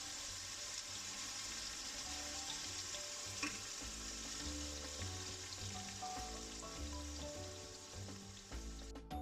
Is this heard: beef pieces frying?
yes